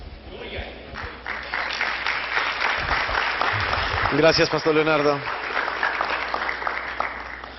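Warm applause from a church congregation for two participating pastors, a steady wash of clapping running under a man's spoken thanks.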